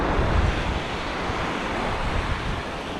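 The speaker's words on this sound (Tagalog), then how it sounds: "malon-alon siya." Sea waves wash continuously over a reef where sharks gather, a broad steady roar with wind buffeting the microphone and no one speaking.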